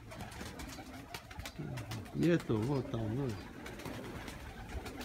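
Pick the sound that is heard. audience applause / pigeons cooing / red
pigeons cooing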